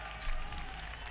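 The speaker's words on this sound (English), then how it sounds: "You see the crowd cheering." Crowd at a Rainbow Six Siege pro league esports match cheering and applauding, a steady broad roar with a brief swell, heard briefly.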